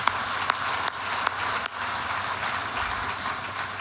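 An audience at a gala applauds steadily throughout, dense hand clapping from a sizable crowd in a room, even in level with a few louder individual claps standing out.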